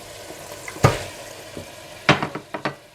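Keema and mutton chops fry in a pan with yogurt and green chillies, giving a quiet sizzle broken by a few sharp stirring clinks and bursts of spatter, close by, with no voices.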